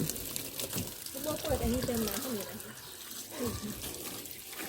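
Water sprays from a hose while a car is washed, a steady hissing rush close by, with someone talking over it throughout.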